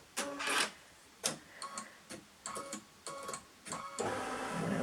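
Embroidery machine stitching in the hoop, a series of short intermittent bursts of mechanical whirring and clicking separated by brief pauses, ending in a longer continuous run, close and fairly quiet.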